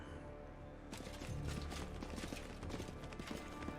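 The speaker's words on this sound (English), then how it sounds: "I can hear your footsteps." Footsteps from the video game Pathfinder: Wrath of the Righteous sound as a faint, quick run of clopping, ticking steps over a low rumbling game ambience, starting about a second in and continuing steadily.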